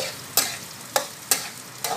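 Rice with fish balls and Chinese sausage stir-fries over high heat, a steady close sizzle broken by four regular scraping stirs of the spatula, with no voices.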